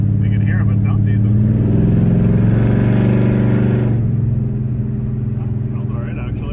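A Chevy C10 pickup with a 400 small-block V8 and Purple Hornies dual three-inch mandrel-bent exhaust idles and revs in a deep, steady rumble, swelling through the middle then easing back, with a person talking over it.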